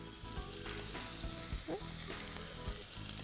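Vegetables stir-fry in a hot wok with a steady, close sizzle and hiss, with brief scraping and stirring bursts breaking through the continuous frying noise.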